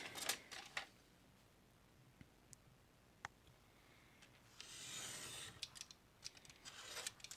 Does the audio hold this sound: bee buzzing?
no